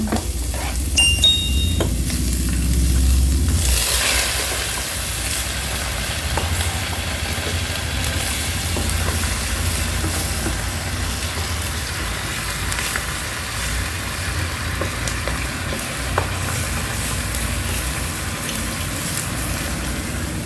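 Vegetables sizzling as they are stir-fried in a Kadonio multipurpose pan, a steady loud hiss of frying with a brief clatter of stirring at the start, continuing evenly without talk.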